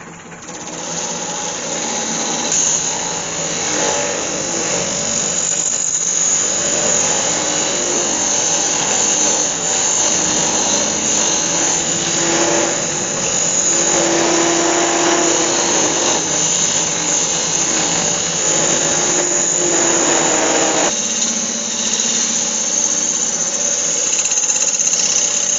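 A wood lathe turns a walnut and Milliput bowl while a tool cuts, giving a steady loud whirring hum with shifting scraping texture throughout, close by and without speech.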